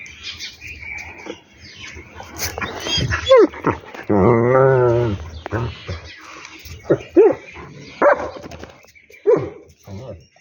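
A dog barks and yelps in short bursts, with whimpering in between, while people talk and scold close by.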